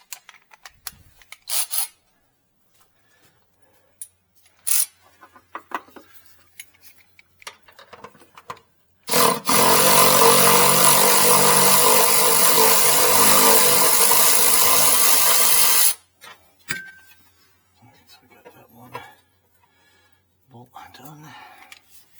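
An old Milwaukee power tool runs during a Jeep Grand Cherokee fuel filter replacement, a loud continuous whirring burst of about seven seconds between quieter clicks, clanks and workshop handling noises.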